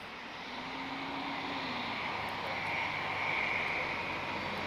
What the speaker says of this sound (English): I think we're going to wait for EasyJet to arrive. We've got an A320.